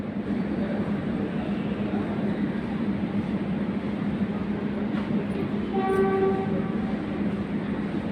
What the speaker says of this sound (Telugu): ట్రైన్ రెడీ ఉంది పోవడానికి,